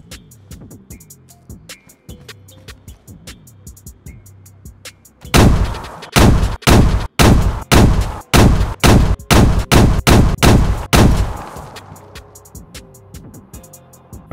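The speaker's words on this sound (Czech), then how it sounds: "Podíváme se ještě na tyto granáty, jestli je tam rozdíl oproti těm zeleným" M67 grenades detonating in the video game DayZ: after quiet ambient game sound, about ten loud, sharp blasts go off in quick succession, each with a short rumbling tail, before the sound falls back to the ambience.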